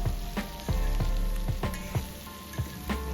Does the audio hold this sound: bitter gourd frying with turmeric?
yes